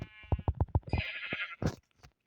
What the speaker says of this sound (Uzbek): Xo'sh, qo'y bor ekan.